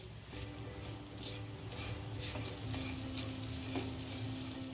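A spoon scrapes and stirs through a thick coconut and sugar modak stuffing in a pan, with a steady low sizzle underneath and soft irregular scraping strokes throughout.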